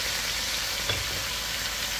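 Curry powder, paprika and spices are stirred in a frying pan for spiced chicken curry, a steady broad sizzle with a faint scrape partway through.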